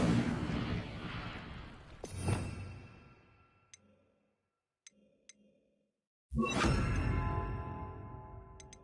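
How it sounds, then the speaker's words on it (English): In the Hogwarts Legacy video game, an Incendio fire spell bursts out with a whooshing blast, fades to near silence with a few small ticks, and then another loud fiery burst follows. "Incendio!"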